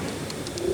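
A pigeon, one of a pair of male and female fancy pigeons such as Saki teddy, Kamagar or Royal teddy, gives a short, close cooing call in a quiet loft, with soft repeated throaty pulses.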